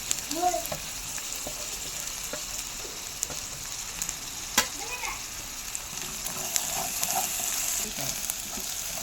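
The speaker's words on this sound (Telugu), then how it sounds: "దీన్ని బాగా ఫ్రై చేసి ఫుల్ డీప్ రోస్ట్ రావాలండి." Ginger garlic paste and tomato fry in oil for a mutton curry, giving a steady, close hiss of sizzling with scattered spoon clinks and stirring scrapes throughout.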